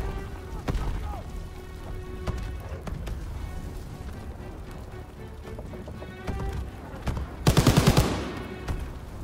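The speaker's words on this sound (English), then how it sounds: "machine gun in the tower!" Machine gun fire from a tower in Call of Duty: WWII during a Rhine river battle, with scattered gunfire and impacts through the scene and a loud, dense burst of rapid shots near the end.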